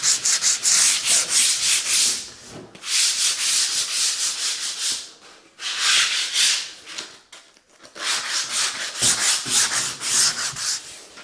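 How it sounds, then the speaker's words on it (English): Wooden architrave rubbed down by hand with sandpaper during a stone barn renovation, heard as loud, close, steady back-and-forth scratchy strokes in long runs, with short pauses between passes. "This means I'm going to have to spend a bit longer rubbing things down."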